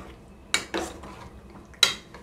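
Carrot and cucumber raita is stirred in a bowl, with a spoon striking the dish in three sharp clinks about a second apart over quiet room noise.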